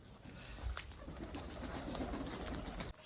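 Pigeons coo softly and steadily in a loft, a faint continuous murmur of calls with no talking over it.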